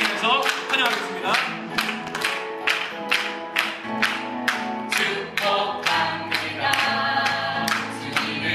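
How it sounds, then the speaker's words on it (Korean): Rhythmic clapping from a Korean church congregation in welcome, sharp regular claps in time with music and singing, fairly close and steady throughout. "기쁘게 박수 치면서 환영하겠습니다"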